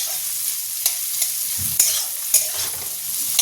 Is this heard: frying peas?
yes